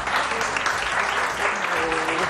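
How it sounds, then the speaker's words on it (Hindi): Loud, sustained applause fills a television morning-show studio as the audience welcomes guest Sana Fakhar, with a faint musical or vocal tone drifting underneath the close, steady clapping. "और बहुत सारी तालियां सना फखर के लिए।"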